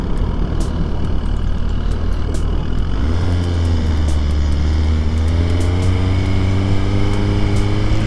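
A 2023 Suzuki GSX-R1000 sportbike engine drones loudly and continuously while being ridden, a steady rumble with wind noise that rises into a higher, smoother tone partway through as the bike accelerates, no voices.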